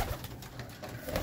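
Pigeons coo in a loft, soft low throaty burbles repeating amid a busy background with no one speaking.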